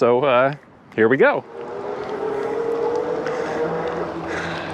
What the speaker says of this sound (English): Assist level 1 feels pretty peppy right now, but that's because I've got both motors turned on.